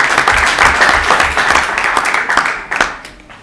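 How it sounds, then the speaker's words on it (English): Audience applause at an honours event in the House of Commons, a dense steady wash of many hands clapping close by, easing off toward the end with a brief louder burst near the finish. "So I think another round of applause"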